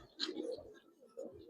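Large pigeons coo softly in two short bursts, close by and fairly quiet, with no talking.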